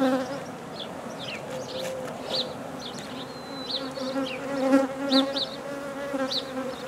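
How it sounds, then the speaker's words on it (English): Swarming honey bees buzz steadily around an opened mating nuc hive as frames are moved, a dense close drone with individual bees whining past, and no one talking. "Now I'm just moving some bees out of the way"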